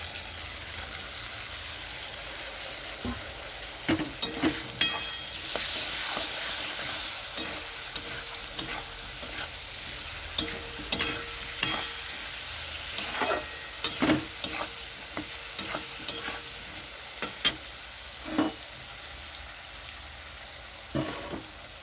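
Tomatoes fry in a pan for a potato curry with papad, giving a steady sizzle throughout. Sharp clicks and scrapes from a stirring utensil hitting the pan come at irregular intervals over the sizzle.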